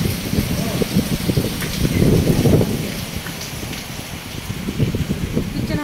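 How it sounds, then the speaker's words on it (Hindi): Sudden heavy rain pours down steadily outdoors in a village, a dense continuous patter with some wind buffeting the microphone, fairly loud throughout. "एकदम सी ना बारिश आ गई"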